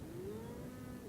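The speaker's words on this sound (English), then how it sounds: "This particular breed of cattle is known as the Brahmin." A Brahman cow gives a single drawn-out moo, a fairly faint low tone that glides slowly, heard alone against quiet outdoor background.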